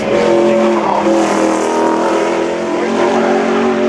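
A race car runs a little loose through the turns on the Seekonk Speedway oval at a NASCAR opening day event. Its engine roars loud and continuous throughout, with faint crowd or track noise beneath it.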